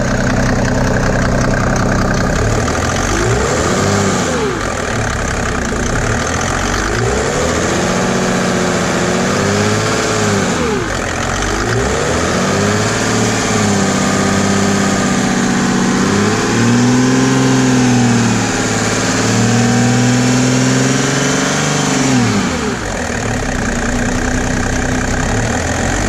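Mercedes E300 W210 with the OM606 diesel engine, close and loud, idling with a clattering rattle and then revved repeatedly in several rising and falling sweeps before settling back to idle.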